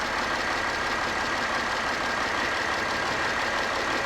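A turbo diesel Mercedes GL320 CDI, an 2008 SUV, idles steadily with a constant, even engine drone and no talking over it.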